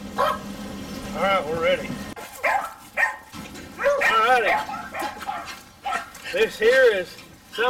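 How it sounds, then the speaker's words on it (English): A beagle bays repeatedly while hunting rabbits in Missouri cane country, giving loud, drawn-out, rising and falling cries in uneven bursts against a steady background. "This beagle right here is one of my older beagles."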